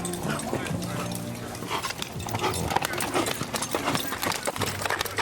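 Hooves of a big gray horse in training clip-clop in a quick, uneven patter, heard under steady talking and outdoor noise.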